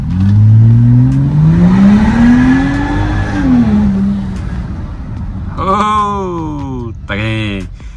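Volvo XC60 fitted with a straight-through sports exhaust, revving loudly up and down through sweeping engine pitch, close to the microphone, with a sharper burst of revs near the end; no talk over it.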